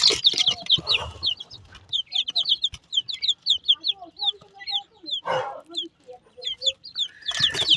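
Chicks clucking and peeping in quick, repeated chirps, close and lively, with a few brief bursts of other noise in between.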